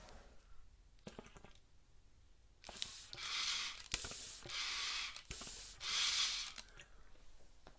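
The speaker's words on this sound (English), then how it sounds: "Before I put the coals on, I always inhale and exhale." Air drawn through a packed hookah bowl before coals are added to test airflow: several steady, breathy hissing pulls in a row, close and fairly loud, with short pauses between them.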